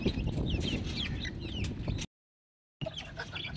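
Hens cluck and chatter steadily nearby, with brief rapid calls; the sound cuts out for a moment, then the clucking resumes.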